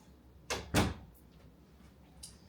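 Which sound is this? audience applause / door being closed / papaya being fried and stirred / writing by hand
door being closed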